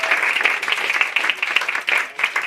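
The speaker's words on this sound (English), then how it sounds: "So round of applause for her." A comedy club audience breaks into lively, close applause, brisk clapping with slight pulses in intensity that carries on for a couple of seconds.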